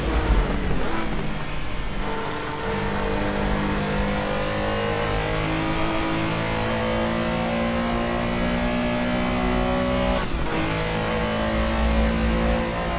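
Flat-six of a Porsche 911 from the 1970s–1980s revving hard in the Assetto Corsa racing game at Flugplatz, a loud sustained engine note with rising and falling pitch through gear changes, alone without talk.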